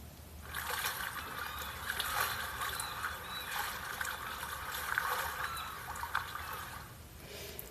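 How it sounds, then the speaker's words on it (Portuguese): Windows 11 theme sound built from flowing, trickling water with faint animal calls mixed in, a steady bright wash that fades in, holds for several seconds and tails off at the end. "Eu acho bem legal esse som de água, de animais ali, eu gosto."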